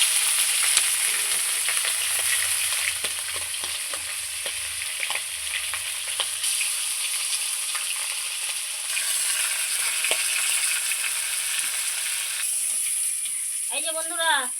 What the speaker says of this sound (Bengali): এবার মাছের মাথাটা ভেজে নেব। মাথাটা ভেজে নিচ্ছি।